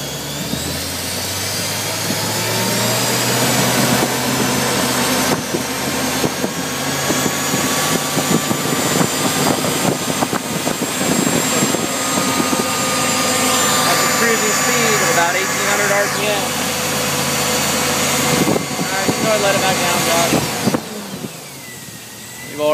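An engine-driven Mechman 370 amp alternator runs under a 400 amp load, with a loud, steady mechanical whine and engine roar that holds constant throughout and a rising whistle near the end. Someone talks over it.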